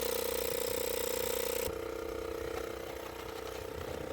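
A goat milking machine with its suction turned up high runs steadily and close by, a pulsing mechanical hum with a rhythmic ratcheting beat whose tone shifts partway through.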